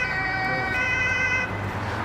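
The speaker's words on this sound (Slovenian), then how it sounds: "Evo, rešilc." An ambulance siren wails steadily on a street, a loud continuous electronic tone held close for the whole moment with traffic rumble beneath.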